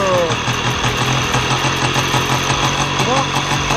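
A Peugeot SX5 moped with an ignition fault idling at low revs, a steady close buzzing putter running throughout.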